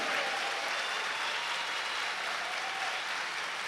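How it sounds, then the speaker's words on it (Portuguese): A church congregation at a Sunday Easter-season Mass applauds in a steady, dense round of clapping that fills the space, sustained at even strength from start to finish with no speech over it. "Uma salva de palmas para o Papa Francisco."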